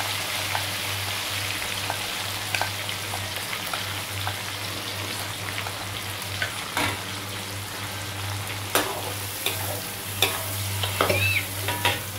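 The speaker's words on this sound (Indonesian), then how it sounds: "minyak yang udah gorengkan tadi kita masukkan cili giling yang udah kita blender" Blended ground chili frying in hot oil while being stirred, a continuous crackling sizzle with scattered louder scrapes and pops from the spoon, steady and close.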